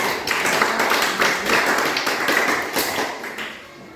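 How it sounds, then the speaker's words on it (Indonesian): Applause from a classroom group after student presentations, a dense burst of many hands clapping that holds steady and then tapers off toward the end. "terima kasih semua, tepuk tangan"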